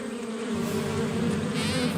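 Bees in a cartoon buzz in a continuous, close droning hum, steady and unbroken with no talking over it.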